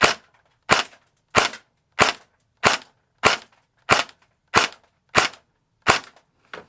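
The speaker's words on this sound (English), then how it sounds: "We're going to do 10 shots in semi so we can get an average." Cyma M14 airsoft electric rifle firing ten semi-automatic shots, each a sharp, loud crack followed by a quick decay, spaced evenly about every half second with silence between.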